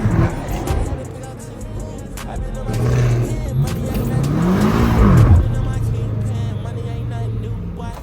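A BMW M5 Competition and a Dodge Challenger Hellcat Jailbreak rev loudly close by. Engine notes rise and fall in a sweeping arc, with a brief tire chirp as the roar builds and then settles into a rumbling idle.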